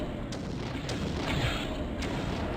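A Flay spell fired in the game Blood Omen: Legacy of Kain, heard as a continuous dense, booming rumble with several brief sharper bursts spread across it, loud and steady throughout.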